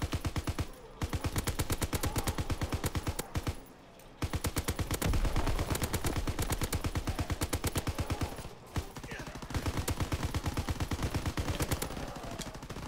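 Sustained automatic gunfire from the WW2-era Call of Duty video game, a rapid close, loud string of shots that empties a magazine, broken by a few short pauses between bursts.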